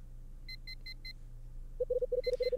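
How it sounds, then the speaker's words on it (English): An apartment alarm clock beeps in the video game Last Window: four quick double-toned chirps, then a rapid run of lower, louder beeps over a steady background hum. "The alarm in my cramped apartment starts to beep."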